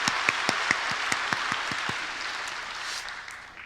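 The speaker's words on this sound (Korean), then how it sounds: "우리 이 시간 여기까지 우리 걸음 인도해 주신 하나님께 감사의 박수" A church congregation at a Sunday worship service applauds in thanks to God, with a few sharp claps standing out over a warm, sustained wash of many hands that slowly fades.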